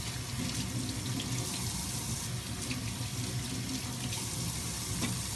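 Water from a kitchen tap runs steadily into a sink while food is prepared, a constant loud broadband splashing rush with no talk over it.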